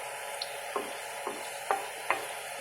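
Garlic sizzles steadily in hot oil as it browns for an Ilocano dish, with a few sharp stirring scrapes rising above the constant frying hiss.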